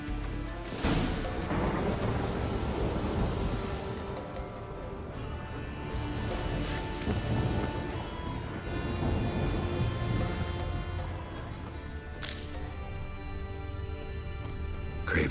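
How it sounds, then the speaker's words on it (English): Steady heavy rain pours in a Witcher 3 thunderstorm, broad and constant throughout, with rolling thunder swelling in bursts early on and again near the end. "It's storm, damn it."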